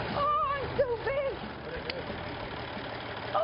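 An old restored tractor engine runs at a steady idle, a continuous low mechanical rumble close by, with people talking over it.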